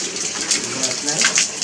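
Water gushing from a household faucet fed by a 48V submersible well pump, a steady hissing splash that runs briefly and close by.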